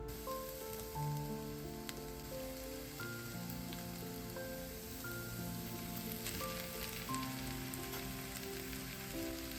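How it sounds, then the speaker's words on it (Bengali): Cut vegetables with whole spices and salt frying in a pan, a soft, even sizzle like light rain that holds steady throughout, partly under quiet background music. "যে সবজিগুলো কেটে রেখেছি ওগুলো আর পরিমাণ মতো লবণ দিয়ে চলুন সবজিগুলোকে ভেজে নিই"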